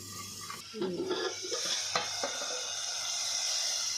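Onion frying in oil until reddish for a Konkan monsoon wild vegetable dish, producing a continuous bright sizzle with some stirring clatter early on, close and steady.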